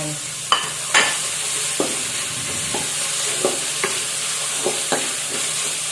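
Sliced cucumber and enoki mushrooms stir-fried in a pan, a soft continuous sizzle broken by sharp clacks of a utensil against the pan at irregular intervals, with no voices.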